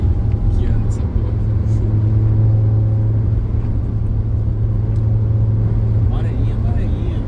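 A Fiat Marea with a 2.5-litre five-cylinder engine drones steadily at speed on the road, a continuous loud hum with engine tones under road rumble, and faint voices may come through.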